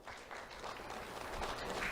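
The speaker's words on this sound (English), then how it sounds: "Let's have a round of applause for Jada Svoboda." Applause from an audience at a sheriff's office youth awards ceremony, a dense, even patter of clapping running throughout without pause.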